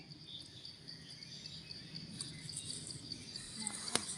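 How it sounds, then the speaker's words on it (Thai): Crickets chirp steadily in a forest at night, a thin, continuous high trill that stays faint and even throughout, with a sharper click near the end. "จิ้งหรีด"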